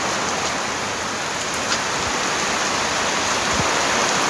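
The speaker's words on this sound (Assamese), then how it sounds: "বতাহ বৰষুণ সমানে দিছে ভাই" Steady, dense rain pours down without a break, a loud even hiss with no voices.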